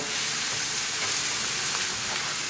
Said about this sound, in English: We're going to cook spices along with our tadka